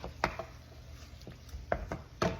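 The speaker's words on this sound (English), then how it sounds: "See, I'm pounding the tomatoes so they can, all the juices of the tomato." Tomatoes being pounded to squeeze out their juice while making a quick cabbage dish, several sharp, close thuds in an uneven rhythm over a low background.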